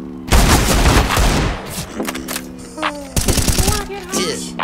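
Rapid bursts of gunfire from the video game CS:GO, loud and close, with dense automatic volleys at the start and more shots later, while players talk over the action.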